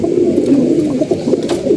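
A pigeon, one of a loft's birds in moult, coos loudly and close. The low, rolling calls continue steadily throughout with no voices over them.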